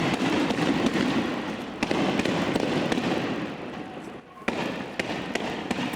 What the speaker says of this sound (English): protesters throwing stones at Israeli security forces there. They're responding in turn with stun grenades.